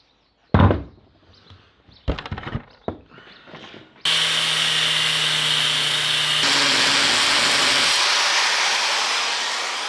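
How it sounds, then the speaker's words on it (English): A reciprocating saw cuts a stuck circlip on a Series 1 Land Rover swivel housing. A few loud knocks and clatters come first, then a harsh, steady buzzing cut runs close and loud for about six seconds. "The other circlip wouldn't come out and just kept spinning, and we're down to the sawzall."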